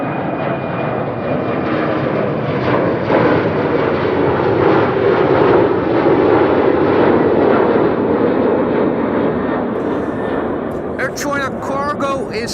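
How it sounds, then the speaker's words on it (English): A China Cargo Airbus A330 freighter arrives at Amsterdam Schiphol with a loud, continuous jet roar that swells in the middle. Brief speech-like sounds break in near the end. "China cargo is arriving here. That's an A330."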